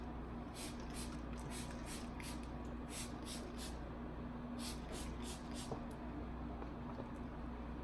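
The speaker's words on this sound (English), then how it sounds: "spritzing my hair" A spray bottle spritzes hair being moisturized during loc care, several quick soft hissing puffs in two bursts of rapid spritzes, close but quiet over a steady low background hum.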